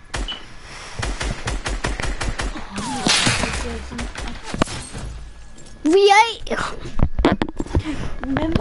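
Video game gunfire cracks in rapid, irregular bursts, sharp and close, mixed with whooshing effects while players talk and shout over the shooting.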